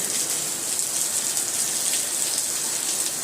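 Heavy rain pours down in a constant, dense hiss, steady and loud throughout with no voices.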